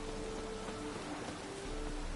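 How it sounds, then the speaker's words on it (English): Steady broadband rain hiss from The Witcher video game, a continuous wet downpour with a faint low tonal hum underneath, no talk. "Rain again."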